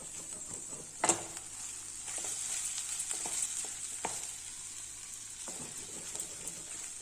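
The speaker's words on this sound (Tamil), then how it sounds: "நம்ம இந்த ஸ்டேஜில் சாதத்தை போட்டு கிளறிடலாம்" Cooked rice being stirred into a cowpea and vegetable masala in a pan, a soft continuous sizzle with occasional scraping knocks of the spoon against the pan, close and fairly quiet, no talk.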